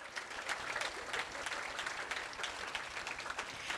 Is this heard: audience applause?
yes